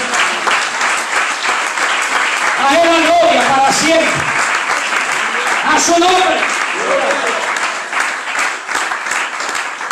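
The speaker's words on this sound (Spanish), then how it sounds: "¿Cuántos le dan fuerte el aplauso a Cristo porque es bueno?" A church congregation claps loudly and steadily during a Spanish-language worship service, with voices calling out praise over the dense applause throughout.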